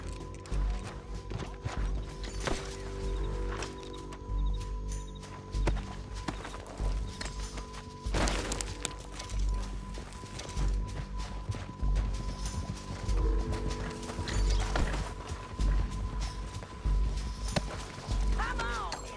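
Horses gallop with clip-clop hoofbeats in the Western video game Red Dead Redemption 2, under continuous game music, shouting voices and crashing effects.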